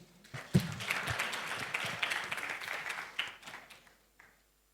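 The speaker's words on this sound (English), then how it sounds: "Thank you once again, and a round of applause." Audience applause closing a healthcare symposium session on comprehensive services and quality of care, swelling quickly into steady clapping, then thinning and fading to silence with a last few claps.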